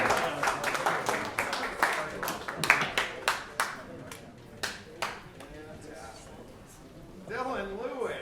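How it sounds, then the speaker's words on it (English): A small studio audience gives a round of applause after a live songwriter showcase: scattered claps for several seconds, then a voice begins speaking. "Let's give them a big round of applause."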